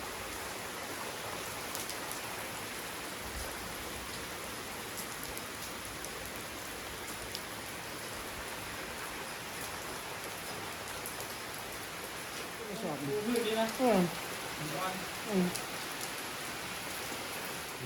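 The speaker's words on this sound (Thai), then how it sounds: "ติดฝนครับ เมื่อกี้นี่หลบฝนครับ" Steady, dense rain pours down throughout on a mountain viewpoint, Pha Tak Suea in Sangkhom district, a constant hiss of drops on surfaces, with a brief faint voice near the end.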